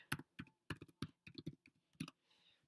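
Computer keyboard keys tapped in quick irregular bursts while a website address is entered, crisp close clicks separated by short pauses, followed by a faint soft hiss at the end.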